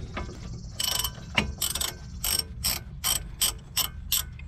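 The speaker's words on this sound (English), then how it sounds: "19 millimeter socket ratchet or wrench to release this nut." A 19 mm socket ratchet clicks in about eight quick bursts as it loosens a car's tie rod end nut, the pawl ratcheting loud and close with short pauses between strokes.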